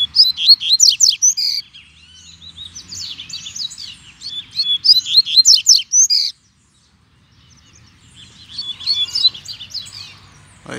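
A young double-collared seedeater sings loud, rapid bursts of bright chirping phrases close by, pauses briefly midway, then resumes its song.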